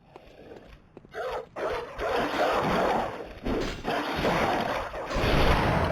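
A dog barks in the retro-styled game Bloodborne PSX: a few sharp, close barks rise over a dense, noisy game soundscape.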